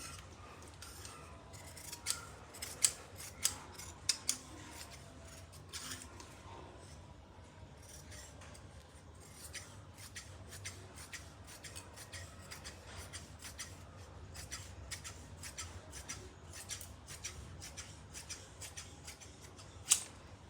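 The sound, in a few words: scissors cutting salwar fabric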